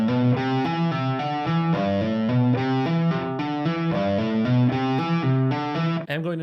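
A distorted electric guitar plays a flowing legato exercise, with hammer-ons and pull-offs connecting the notes smoothly. It sounds close and sustained, with no pauses or talking.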